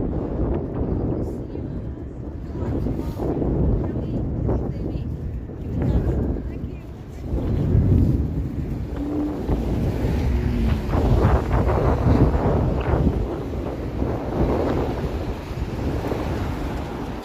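Strong wind gusts buffet the microphone outdoors in downtown Toronto on a slushy evening, a loud rumbling roar that swells and eases continuously, with a voice talking over it.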